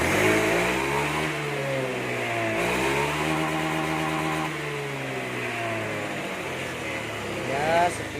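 A motorcycle engine fitted with a new TPS throttle position sensor revs up and down in steady, smooth rises, close and fairly loud, with a voice speaking over it.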